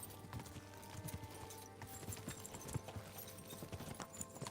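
Steady clip-clop of horse hooves in a video game at a trotting rhythm, close and continuous, with a faint layer of background ambience and no voices.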